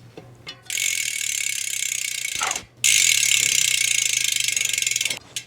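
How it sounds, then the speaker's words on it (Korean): A freshly greased bicycle ratchet freewheel clicks in rapid, even buzzing runs as the wheel spins, close and loud. Two long bursts are split by a brief pause, with no talking. "방금 저 라쳇 룸에 그리스를 충분히 도포해 줬습니다. 자, 그러면 소리가 어떤지 한번 들어볼게요."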